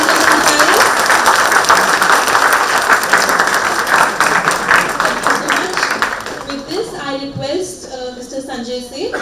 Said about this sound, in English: So can we have a huge round of applause for all the speakers and panelists?